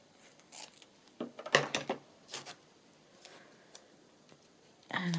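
Scissors snip a piece of paper off for ephemera crafting, a cluster of close, crisp cuts in the middle followed by a few lighter rustles and handling sounds, with no speech.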